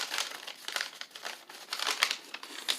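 A paper petition folded by hand, close crisp crinkling and creasing in irregular bursts without pause.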